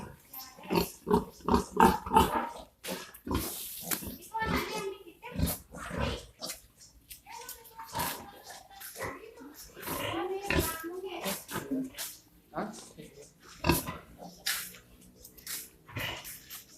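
Pigs and piglets in a pig pen where sows are farrowing make a busy run of grunts, oinks and sharp squeals, loud and close, in an irregular rhythm. A voice talks in between.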